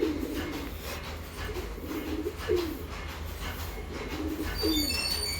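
A male pigeon coos close by in a series of short rolling bursts spaced about a second apart, with faint chirps near the end and no talking.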